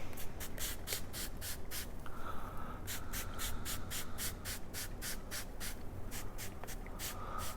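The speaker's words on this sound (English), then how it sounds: "Give them a good spritzing like that." Spray bottle spritzing smoked baby back ribs on an Oklahoma Joe's smoker, a quick run of about twenty short, sharp hissing bursts in steady clusters with brief pauses, close and fairly quiet.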